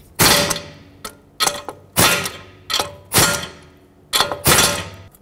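A wrench tightens a castle nut on the front wheel hub of a 2003-2008 Toyota Corolla in about six short, close bursts of ratcheting clicks, each ending in a dull thunk.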